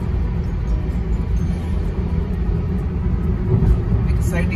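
Steady low road rumble and engine drone from a car cruising at night on a long highway trip toward Alibaug, continuous and fairly loud with no talk over it.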